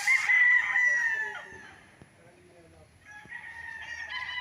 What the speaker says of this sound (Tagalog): maraming mga manok kasi ito ay isang game farm